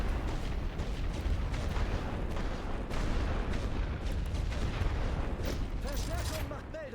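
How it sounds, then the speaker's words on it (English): Artillery barrages in The Great War: Western Front strategy game, a continuous rumble of dense booming shell fire and scattered blasts, loud and unbroken throughout, with a voice talking over it. "I'm just going to hit them with artillery."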